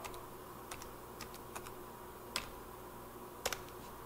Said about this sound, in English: let's do Control F and type shovel.